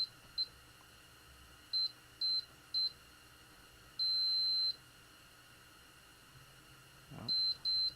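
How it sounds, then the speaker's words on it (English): Short electronic beeps from a Macintosh Classic II under repair sound in scattered groups of one to three, faint over a quiet room hiss with a soft knock near the end. "Alright, we got beeps."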